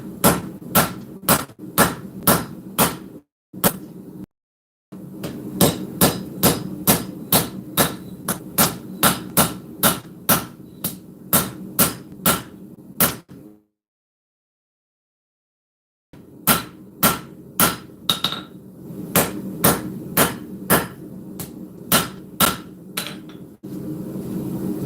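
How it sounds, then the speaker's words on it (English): Hammer forging the tip of a full integral knife: bursts of loud, evenly spaced ringing metal strikes close by, several in quick succession, broken by two short pauses and one long silence before the hammering resumes. "keep forging on that tip."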